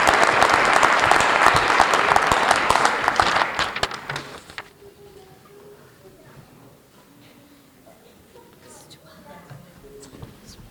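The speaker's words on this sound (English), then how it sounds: "We have one more round of applause for all of the award recipients this evening" Loud applause from a crowd at a high school varsity jacket awards night for about four seconds, then it fades out into quiet room noise with scattered claps.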